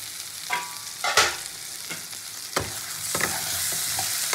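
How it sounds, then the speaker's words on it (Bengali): Eggplant curry is stirred in a pan, with scattered scraping strokes of a spatula against the metal over a steady soft sizzle of frying; several distinct stirring scrapes stand out, close and moderately quiet, with no voices. "তো আবারও নাড়াচাড়া দিয়ে আমি ঢাকা দিয়ে দেবো এটাকে"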